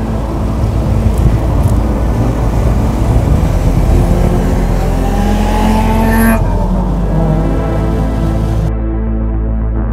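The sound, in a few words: Toyota BTCC race car driving past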